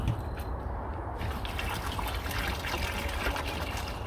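Water runs steadily from a tap while salt brine is being made for soaking a cleaned squirrel, a continuous trickling splash with no talk.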